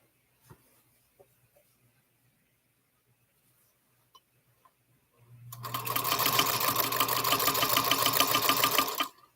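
A sewing machine stitches quilt pieces, running steadily and fairly loud for about four seconds after a mostly quiet stretch with a few small clicks and taps.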